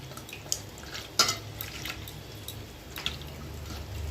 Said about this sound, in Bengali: একটু আটা নিয়ে নিলাম জলের মধ্যে, আটাটা ভালো করে গুলে এবার দিয়ে দেব।